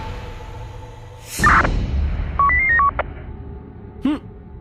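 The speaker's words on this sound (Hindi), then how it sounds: "फोन आ गया है युवराज के फोन पे," On a TV drama soundtrack, a phone signals an incoming call with a short electronic melody of clear stepped tones, set between a sharp swoosh effect and a brief chirp.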